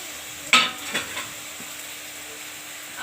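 Ground spices and ginger frying in a pan, with a sharp burst of sizzle and a few stirring scrapes early on, then a quieter steady hiss that fades toward the end.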